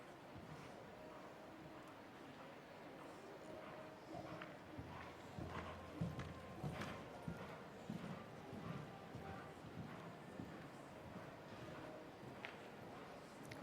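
Dressage horse cantering in a Prix St Georges test at a seaside CDI competition, its hoofbeats a steady, moderately close rhythmic thudding over a constant outdoor hum, with faint background voices.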